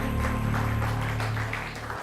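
An audience at a business-school conference and awards event in Bangalore applauds in a continuous, dense wash of clapping, with a steady low tonal hum running underneath.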